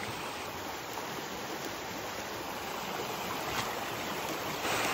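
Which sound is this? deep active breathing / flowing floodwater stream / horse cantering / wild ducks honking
flowing floodwater stream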